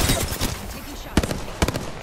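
Gunfire in the Apex Legends video game comes as several short, loud clusters of rapid cracking shots, close by, set against background game noise and some voice chatter.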